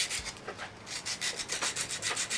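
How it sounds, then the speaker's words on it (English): A carbon brush is rubbed on 100 grit sandpaper in quick, even back-and-forth strokes, a soft, close, rhythmic rasping with no voices. "we're just going to use 100 grit sandpaper to take this carbon down"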